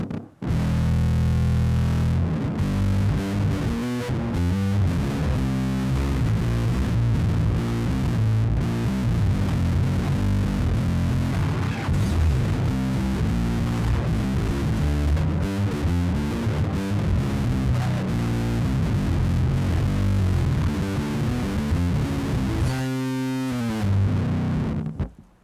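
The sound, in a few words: guitar fuzz pedal with bass distortion, VVCO Afterlife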